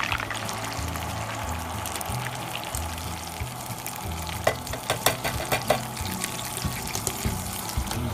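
Corn and beans tipped into a camp goulash pot over a fire, a steady bubbling sizzle with soft stirring and scraping, then a run of sharp clinks and knocks against the pot toward the end.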